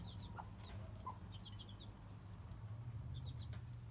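Backyard chickens cluck softly near wooden nesting boxes, short scattered calls and chirps over a low steady background hum, with no talking.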